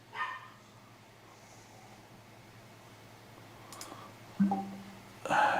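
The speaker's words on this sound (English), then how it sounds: "I think I'm getting delivery right now because my dog is going crazy" A dog reacting to a delivery at home: a few short, sharp barks, one near the start and a louder burst near the end, over a faint steady indoor hum.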